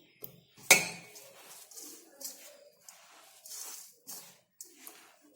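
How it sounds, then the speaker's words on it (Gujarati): Flour and spices mixed by hand in a metal bowl for bottle gourd thepla dough: a sharp clink, then soft intermittent scraping and rubbing strokes, close and quiet, no talk. "આ રીતે હવે આપણે બધો લોટ અને મસાલા મિક્સ કરી લઈશું।"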